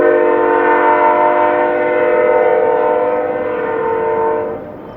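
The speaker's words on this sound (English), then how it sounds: "As they blow their horn for the oilfield access road in the foreground" A Union Pacific freight train's horn blows loud and sustained at a road crossing, a steady multi-tone chord held for several seconds before fading slightly.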